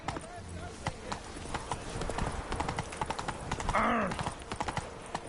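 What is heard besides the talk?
horse Roach galloping hooves in video game The Witcher 3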